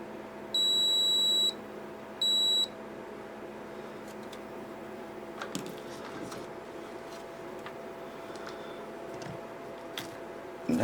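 A continuity tester beeps twice while checking the circuit of a 3DO FZ-10 console for shorts: a longer steady tone, then a short one. Faint hum and scattered small clicks follow.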